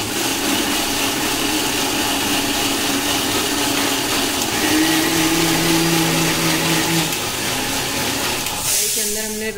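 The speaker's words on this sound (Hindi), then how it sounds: "ये सारी पकी हुई सब्जी हमने मिक्सर में डाल दी है और अब इसको हम ग्रेवी बनाएंगे" Kitchen mixer grinder blending cooked vegetables into gravy, a continuous loud whirring motor drone that shifts pitch partway through and winds down near the end.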